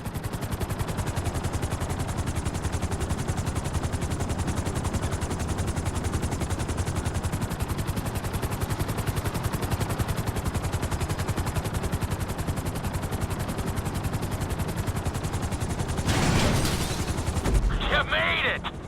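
A helicopter in a Grand Theft Auto V flight school mission descends toward a helipad, its rotor chopping in a rapid, loud, continuous thudding pulse, swelling and roughening near the end as it sets down.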